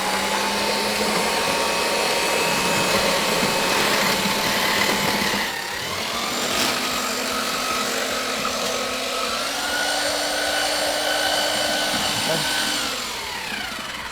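A power mixer with a paddle churns plaster skim for wall skimming, a steady loud motor whine whose pitch shifts as the speed dial is turned up, running continuously throughout.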